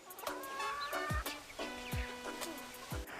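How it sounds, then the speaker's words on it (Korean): Fantail pigeons on a farm, a flock heard close by with soft repeated calls and rustling, several low thumps of wings or landings spaced about a second apart, moderately quiet throughout. "종소리 몇 번에 득달같이 달려오는 녀석들의 정체는 공작 비둘기"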